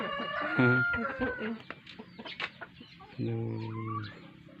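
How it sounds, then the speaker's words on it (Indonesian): An Ayam Ketawa, the Indonesian laughing chicken, crows twice in a village setting, each call a loud, close, harmonic burst with a stuttering, laugh-like rhythm, separated by softer clucks and background bird chatter. "Ayam ketawanya"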